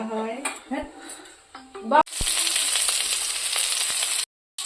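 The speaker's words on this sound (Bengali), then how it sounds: "এই যে এখানে সিম কষছি" Flat beans sauté in a pan in a home kitchen: after talking and a clank of utensils, a steady close sizzle starts and runs until it cuts out near the end.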